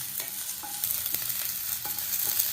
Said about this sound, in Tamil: வெங்காயம் வதங்கிட்டு நல்லா இந்த மாதிரி ப்ரௌன் கலராக வர வரைக்கும் நல்லா வதக்கிடணும்